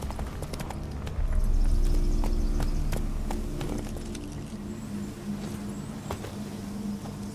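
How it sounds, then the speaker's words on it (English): Hooves clip-clop steadily from a horse ridden in the Witcher 3 video game on PS4, a rhythmic, fairly close beat with a brief louder rumble early on and no talking. "Whoa there, Roach"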